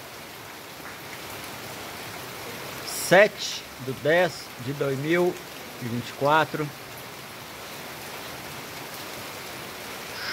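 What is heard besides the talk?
rain falling after long drought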